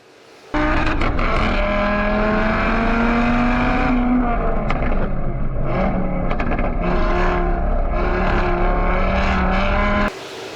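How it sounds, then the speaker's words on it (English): A 2018 Audi RS 3 sedan with a Stage 2 APR 550hp tune revs its exhaust loudly and continuously, the engine note rising and falling as it accelerates, close and dominant with no talking. "But that's the exhaust"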